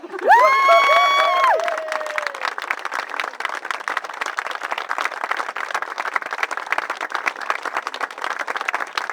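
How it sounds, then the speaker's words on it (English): Wedding guests break into sustained applause and cheering after a couple is declared husband and wife, a dense clapping crowd that opens with loud whoops and carries on steadily. "we give you a big round of applause"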